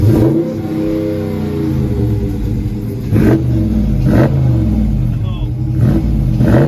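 A Ford Mustang S550 engine rumbles close by and is revved in repeated sharp bursts, each climbing and dropping back to a throbbing idle, roughly four blips across the stretch.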